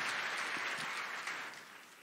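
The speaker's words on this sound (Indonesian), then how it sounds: "kasih kemuliaan tepuk tangan buat Tuhan kita" A church congregation applauds for God during a sermon, a dense wash of clapping that holds steady and then tapers off slightly, heard from within the crowd.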